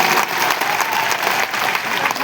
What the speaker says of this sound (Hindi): ताली बजाकर रेणु देवी जी का स्वागत कीजिए